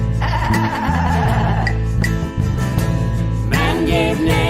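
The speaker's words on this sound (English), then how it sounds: "I think I'll call it a sheep." A sheep bleats over a loud sung song with steady instrumental backing, the animal's cries blending into the dense music throughout.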